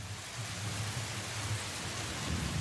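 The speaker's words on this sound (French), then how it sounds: "Le vent et la tempête faisaient rage cette nuit de la fin novembre." Stormy night of wind and heavy rain with low thunder rolling beneath, a dense unbroken hiss of downpour and rumble throughout, steady and fairly loud with no voices.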